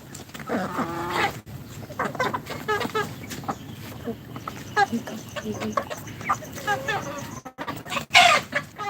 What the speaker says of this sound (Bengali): এখানে মায়া মদার সব ধরনের মুরগি রয়েছে